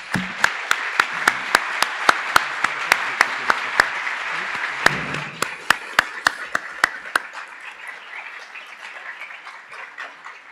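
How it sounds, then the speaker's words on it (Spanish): An audience gives welcoming applause at a lecture on archaeological excavations at Teotihuacan, starting with sparse loud individual claps over a steady wash of clapping that fades out toward the end. "les diéramos un aplauso de bienvenida"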